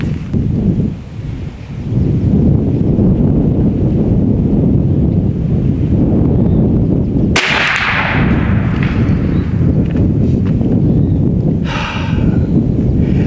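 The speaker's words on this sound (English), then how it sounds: "I can feel a wind blowing from left to right" Strong wind buffets the microphone outdoors at a big-bore air rifle range, a loud continuous rushing roar with a sharp gust-like crack partway through.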